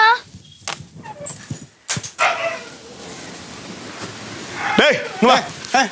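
A dog barks and whimpers in short bursts near the end, after stretches of people talking close by.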